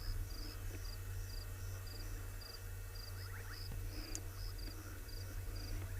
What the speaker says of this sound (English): You can hear the frogs, they're going.